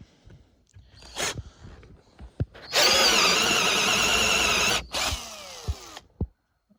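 A Bosch drill bit bores into wood in one loud, close, steady burst of about two seconds, followed by a shorter second burst, with handling clicks before and after.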